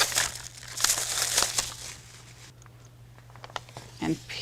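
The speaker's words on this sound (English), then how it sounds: "Then I'm going to remove the clear film." Clear protective film crinkles and crackles as it is peeled off adhesive vinyl while making a door hanger, close and busy for a couple of seconds, then quieter with scattered rustles.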